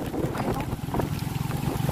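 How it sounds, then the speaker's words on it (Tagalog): Strong wind before Typhoon Pepito in Pangasinan roars steadily into the microphone, a loud continuous buffeting rush with gusty pulses and no speech. "Grabe, lakas ng hangin."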